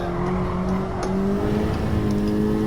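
A stock Honda Civic Type R FL5 accelerates hard, its loud engine note rising steadily in pitch without a break and with no one speaking.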